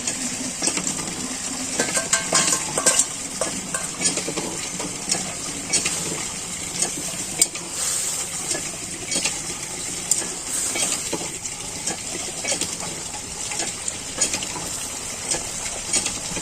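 Small wild fish from a marshland pond fry in hot oil in a pan, a steady close sizzle with stirring scrapes and occasional light clinks of a utensil, running continuously throughout.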